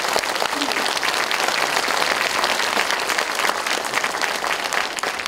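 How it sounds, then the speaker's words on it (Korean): A crowd at a political lecture in Gwangju gives a loud, sustained round of applause for the seniors, dense clapping filling the whole stretch. "그분들 위해서 우렁찬 박수 한번 보내시기 바랍니다"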